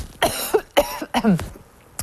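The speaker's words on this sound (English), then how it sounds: "I'm going to cough." Several sharp coughs in quick succession, close and fairly loud, with short pauses between bursts and a final brief cough after a gap.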